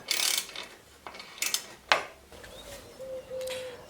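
Go-through ratchet spanner with a 10mm attachment on its 14mm side undoing a nut on an awning: a few scattered metallic clicks and ratchet ticks spaced over a few seconds, close and fairly quiet, with no talking.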